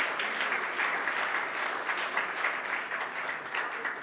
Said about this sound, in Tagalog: Palakpakan nga po natin ang Panginoon.